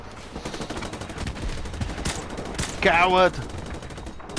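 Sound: gunshots in a first-person shooter video game

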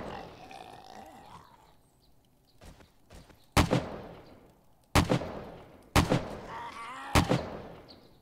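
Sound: gunshots in the video game 7 Days to Die

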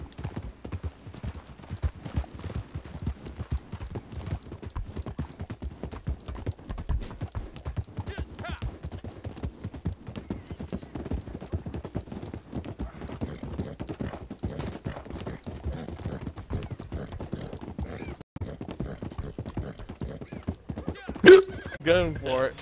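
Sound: horse hooves galloping, from a video game

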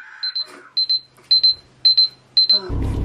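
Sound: kitchen timer alarm going off

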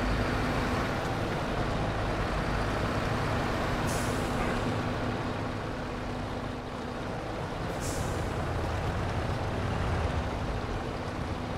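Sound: truck engine running in video game SnowRunner

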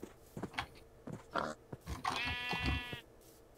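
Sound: sheep bleating in the video game Minecraft

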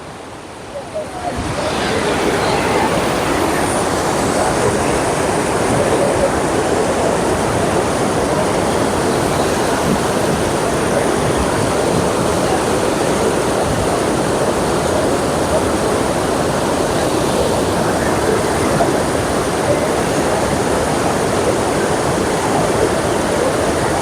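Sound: rushing water flowing from lake after rain

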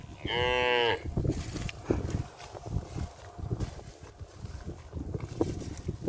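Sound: cattle herd mooing in a pasture

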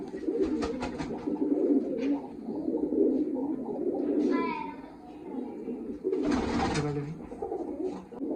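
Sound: pigeons cooing

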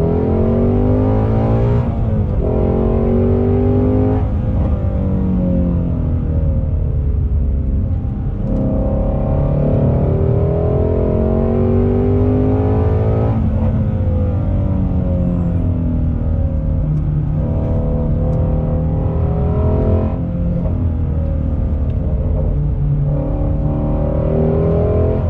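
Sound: 2020 Ford Shelby GT350R Mustang engine accelerating on throttle

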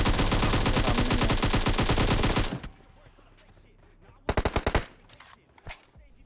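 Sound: gunfire in PUBG Mobile video game

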